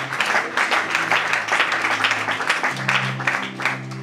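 A church congregation claps and applauds during a French-language Bible teaching on Exodus, a steady dense crackle of hands filling the room for about four seconds, with a faint sustained tone underneath.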